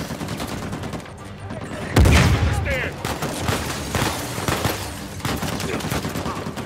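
A grenade blast in Uncharted 4 erupts as a loud low boom about two seconds in. It is followed by scattered gunshots and game noise, with talk over the action.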